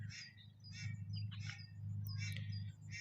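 A male Arabian bird in breeding condition gives a series of short, bright chirping calls in quick bursts over a steady low hum, fairly faint and with no speech.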